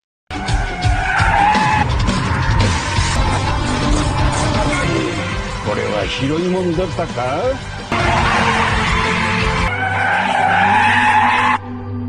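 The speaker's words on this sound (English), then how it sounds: "he busted out some awesome drifting moves that blew everyone away" A car drifting at an event, with loud sustained tire squeals and skidding sweeping up and down over engine roar, shifting in pitch as the car slides, while a voice talks over it.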